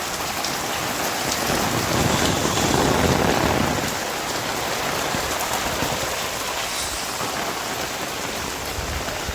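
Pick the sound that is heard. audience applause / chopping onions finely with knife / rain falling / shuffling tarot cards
rain falling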